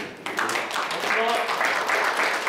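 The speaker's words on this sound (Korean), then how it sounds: "박수 한번 부탁드립니다" An audience at a provincial tennis association ceremony breaks into steady applause lasting a couple of seconds, a dense wash of clapping from a moderately sized crowd, with a voice speaking over part of it.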